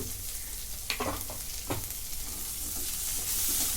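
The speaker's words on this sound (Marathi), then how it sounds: "आता हे पण दोन मिनटं परतून घेते" Green chilli and tomato sautéing in a little oil with asafoetida for dal methi, giving a steady close sizzle with a couple of spatula stirs early on.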